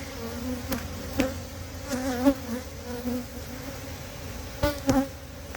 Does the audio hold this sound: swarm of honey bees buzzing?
yes